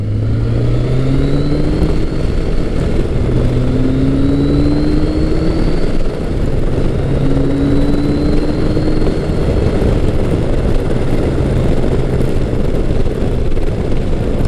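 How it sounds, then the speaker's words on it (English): A Kawasaki Concours 1000 (GTR1000) motorcycle's 1000cc 16-valve engine drones steadily and loudly while riding, with rising whines as it revs through the gears under constant wind roar. "Power from the 1000cc 16-valve Kawasaki engine is just smooth"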